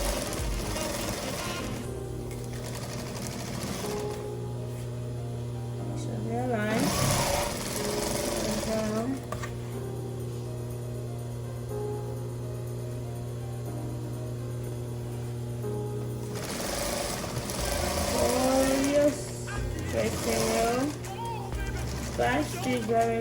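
A sewing machine backstitches fabric in fast, loud mechanical bursts of stitching separated by quieter running stretches, with a voice talking throughout.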